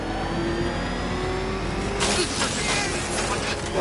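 Car engine revving in the Batman: Arkham Knight video game, a steady loud mechanical drone with rising harmonics, growing busier and rougher in the second half with scattered bursts of noise.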